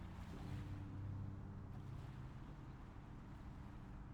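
Gentle waves lap steadily against a shore, a soft continuous wash with a low rumble and light wind, quiet and unbroken, with no voices.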